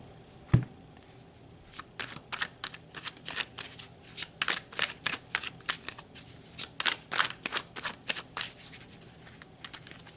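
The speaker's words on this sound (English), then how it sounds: "So let's pull some minor arcana and clarify these major cards a little bit." Tarot cards being shuffled and drawn make a run of quick, close riffling and flicking bursts. They come in uneven clusters after one sharp tap at the start, with no voice.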